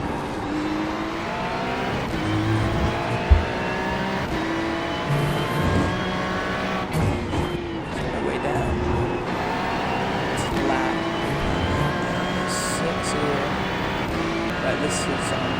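Race car engines in the iRacing sim with a rear-engined Corvette and Ferrari, a continuous high revving drone that rises and drops through gear changes and braking, with a brief thump, and no talk over it.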